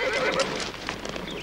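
A horse whinnies at moderate distance, a quavering neigh mixed with hoof clip-clop and outdoor background noise in a period film scene.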